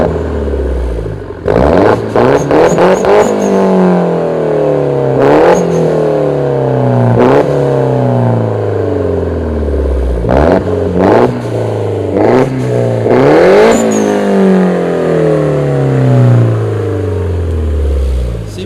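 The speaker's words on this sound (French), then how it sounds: "on écoute le son moteur" A DS3 Performance Black and White car engine revs hard up close, several loud bursts rising and falling in pitch, each rev separated by short pauses at idle.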